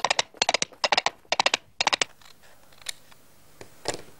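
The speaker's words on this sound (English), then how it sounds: "Now, we can cut out the shape." Scissors cutting a cowboy hat shape out of paper, a quick run of crisp close snips in bursts, then a pause and a few scattered clicks, with no voices.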